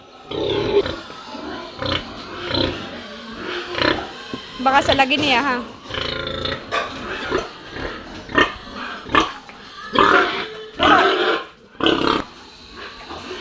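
A sow and other pigs grunt and squeal close by amid feeding noise, with people talking over the animals throughout.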